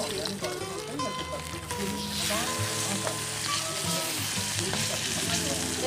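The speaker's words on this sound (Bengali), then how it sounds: "আমার মাছটা এক পিট ভাজা হয়ে গেছে তো আমি এটা পাল্টে নিই" Fish fries loudly in hot oil with a dense, continuous sizzle, while a person talks over the crackling and a utensil occasionally clinks.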